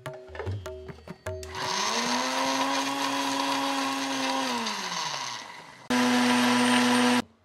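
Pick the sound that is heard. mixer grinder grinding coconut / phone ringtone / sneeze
mixer grinder grinding coconut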